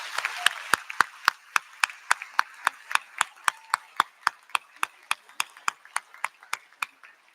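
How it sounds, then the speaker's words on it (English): Sparse, evenly spaced claps ring out one by one at a university convocation ceremony, about four per second, crisp and fairly close rather than a full crowd. "Before we move on to our next speaker, can we just give one more round of applause for our sixth president, Dr. Cheryl Green?"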